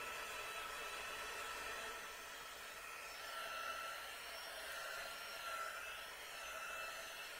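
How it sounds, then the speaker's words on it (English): A handheld quick-dry heat tool blows steadily on drying craft paste for Valentine decor, a continuous close, even hiss of air with no pauses and no talking. "I'm just using my quick dry tool to expedite the drying process."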